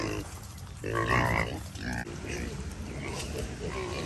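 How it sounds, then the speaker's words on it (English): A pig grunts and oinks repeatedly, close by, while a person talks over it. "Big pig. Big pig."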